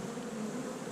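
Honeybees in a large winter hive in South Carolina, a low steady buzz close by, ending in a brief sharp knock.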